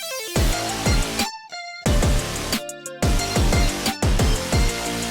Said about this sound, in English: It's just a distorted layer that has some kind of rhythm to it